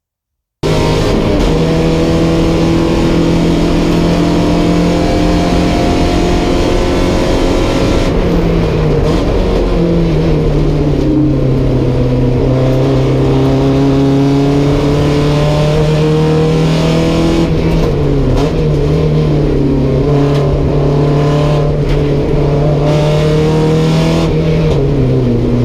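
Porsche 944 race cars circle a track in the 944 Challenge, a loud, steady engine drone from close by that rises and falls as the driver shifts gears, with no talk over it.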